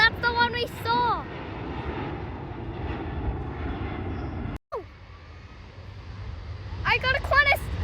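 A Qantas passenger airplane flies overhead, its engines making a broad, steady roar that fades slowly, while voices speak near the start and the end.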